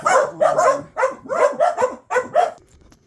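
Dogs bark in repeated loud, close volleys, about eight sharp barks in quick clusters with short gaps, ending in a faint trailing yip.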